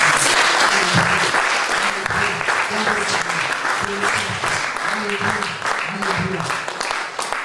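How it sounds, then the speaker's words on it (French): Church congregation applauding and cheering in sustained, dense clapping that fills the space, with voices and a low sung or spoken line running underneath throughout. "Acclamons encore pour le Seigneur"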